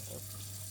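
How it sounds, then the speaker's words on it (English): Kitchen tap water runs over a jar, a short steady rushing hiss heard close and fairly quiet, with no voices. "just before I run this under the water"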